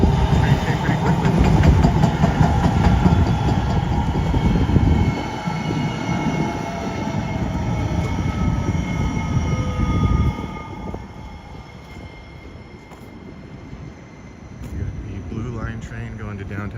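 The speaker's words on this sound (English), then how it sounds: "Train going to downtown Minneapolis from the Mall of America, goes down to Target Field." A light rail train running from the Mall of America toward downtown Minneapolis on a snowy day rumbles and whirs nearby, loud at first and then fading as it pulls away.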